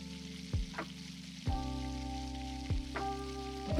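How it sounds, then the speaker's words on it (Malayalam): Chicken cigar bites frying in hot oil make a soft continuous sizzle, with a few brief bursts as pieces are moved or added, heard up close with no talk. "അങ്ങനെ ഓരോന്നായി നമ്മൾ ചിക്കൻ സിഗാർ ബൈറ്റ്സ് ഫ്രൈ ചെയ്തെടുക്കുകയാണ്"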